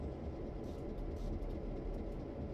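Train rolling along the Clinchfield line in Train Sim World 2, a steady low rumble and drone of wheels and engine, constant and fairly quiet, with no voices.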